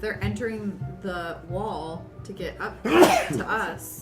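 A single sharp sneeze bursts out between stretches of conversation, loud and close, with people talking before and after it.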